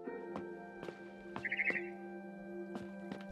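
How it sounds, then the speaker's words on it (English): In What Remains of Edith Finch, a barn swallow outside a window gives a short burst of chirps over quiet game ambience, set among soft, sparse clicks and thuds. "Then I heard chirping outside my window."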